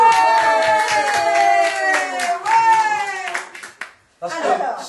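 An audience claps in a dense, rhythmic patter under loud voices, then drops out briefly before the clapping resumes.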